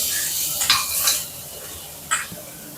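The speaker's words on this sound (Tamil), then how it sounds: "வெங்காயம் வதங்கட்டும்." Chopped small shallots sautéing in a pan for a spicy dried anchovy thokku, with a soft broadband sizzle and a few brief stirring scrapes of a spoon against the pan.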